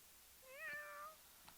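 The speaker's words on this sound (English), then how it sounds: "They're cute kitty cats." A single cat meows once, a clear, drawn-out call that rises and then falls, heard fairly close and alone against a quiet background.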